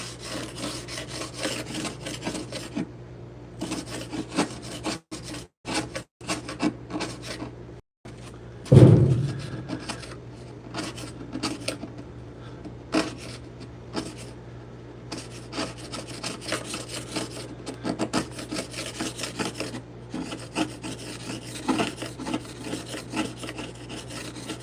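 A sharp chisel scrapes wood during a vinyl plank floor installation, a steady rough rasping that runs on and on at close range, broken by a few short gaps and one brief louder knock.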